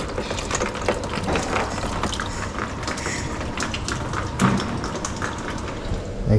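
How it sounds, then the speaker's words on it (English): Coolant from a Rewaco RF1 Turbo LT trike drains steadily into a tub, a continuous close splashing trickle of liquid with faint mechanical clinks, no talking. "I'm draining the coolant into the tab."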